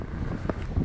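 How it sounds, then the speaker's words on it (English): Low, blustery wind rumbles against the microphone outdoors, steady and buffeting with small gusts, no one speaking. "It's pretty windy out here."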